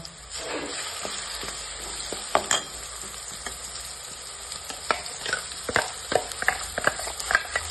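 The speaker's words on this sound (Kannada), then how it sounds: "ಇದಕ್ಕೆ ನಾ ರುಬ್ಬಿಟ್ಕೊಂಡು ಪೇಸ್ಟ್ ಹಾಕೋತೀನಿ ಇವಾಗ." Ground paste added to hot oil already frying green chillies and curry leaves, for cauliflower gobi fry, crackling and sizzling steadily with intermittent sharp spatters and stirring clinks, close and clear, no talk.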